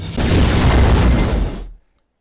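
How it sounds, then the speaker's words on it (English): Laser cannon fire in a video game, a loud, full-bodied blast rising sharply and sustained for over a second before cutting off into silence. "why wouldn't you have a laser cannon?"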